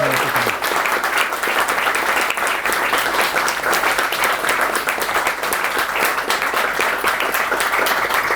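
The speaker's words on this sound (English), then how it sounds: "Can we please say a big round of applause?" Sustained, dense applause from a conference audience after an in-conversation interview on film producing, steady and loud throughout with no pauses.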